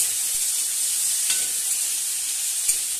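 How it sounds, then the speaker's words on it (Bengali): Potatoes and pumpkin pieces sizzle in hot oil for a thick, steady hiss, with a couple of faint soft knocks as they go in. "এবার এই তেলের মধ্যে আলুগুলো আমি দিয়ে দিচ্ছি।"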